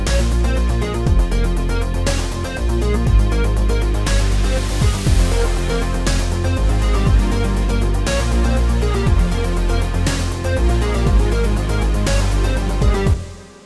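A rhythmic note pattern from the Stepic note sequencer plays inside a full electronic track, with punchy repeating beats, dense synth layers and a steady loud groove that cuts off abruptly at the end, with no talking.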